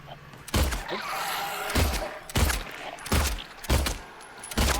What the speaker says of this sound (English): Probably stop shooting like a maniac, huh?